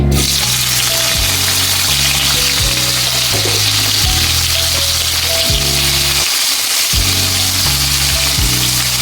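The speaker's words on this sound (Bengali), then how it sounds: "ভালো করে মেখে আমি এটা ভেজে নিব তেলে" Okra pieces rubbed with salt fry in hot oil, giving a loud, dense and continuous sizzle that crackles close up, with faint music running underneath.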